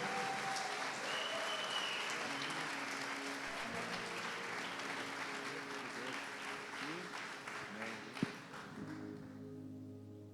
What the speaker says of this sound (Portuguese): Receba com uma salva de palmas o pastor Alexandre Mineiro.